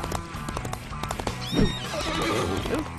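A horse whinnies loudly while hooves clop steadily underneath, from the video game Disney Infinity on Wii U.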